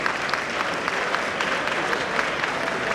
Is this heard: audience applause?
yes